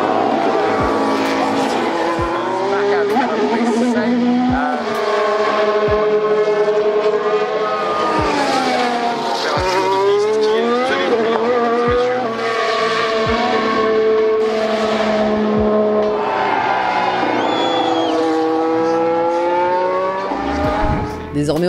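Formula 1 race cars at the 2022 French Grand Prix scream past one after another, loud high-pitched engines rising and falling in pitch through gear changes and fly-bys, continuous and close for the whole stretch.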